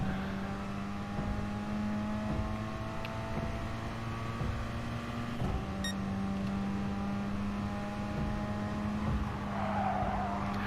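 A race car in the video game GT Sport corners on track, its engine holding a steady droning whine that dips briefly and then settles, with a faint tire squeal and no talk.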